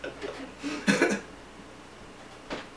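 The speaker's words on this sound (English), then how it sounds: "Clear your throat." A single throat clear close to the mic, a brief rough rasp near the start, and a fainter throaty sound trailing a moment later over quiet room tone.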